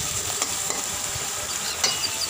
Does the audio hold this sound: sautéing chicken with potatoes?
yes